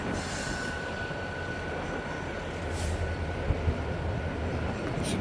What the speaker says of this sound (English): there goes that light locomotive.